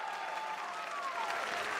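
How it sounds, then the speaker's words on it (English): Spectators at a Pokémon VGC tournament, the North America International Championships, give a steady round of applause, a dense even wash of clapping held at moderate level throughout, with no speech over it. "the first thing that I'd like to ask for is a round of applause for Marcus Dion"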